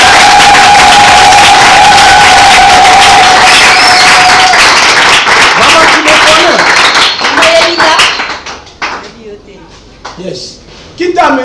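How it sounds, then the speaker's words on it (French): A church congregation bursts into loud, dense applause and cheering, a sustained roar of clapping and shouts that fades toward the end while voices break through. "Est-ce qu'on peut acclamer?"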